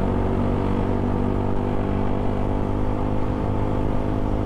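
A Suzuki Gixxer motorcycle engine droning and revving at high speed in fifth gear, a loud continuous low rumble with no pauses and no voices.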